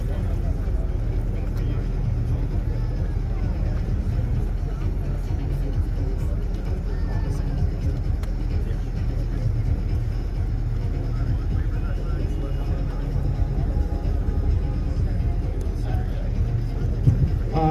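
Subaru 2024 BRZ tS driven hard on a run at Subiefest, a steady loud engine drone and road rumble that holds for the whole stretch, with voices and crowd noise faintly underneath.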